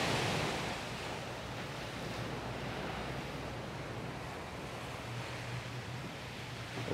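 Ocean waves breaking steadily on a resort beach, a continuous soft wash of surf with light wind noise and no voices.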